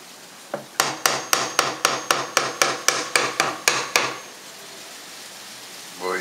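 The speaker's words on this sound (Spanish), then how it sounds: "con este martillito," A run of about a dozen sharp, evenly spaced taps from a small hammer, close and crisp, then quiet.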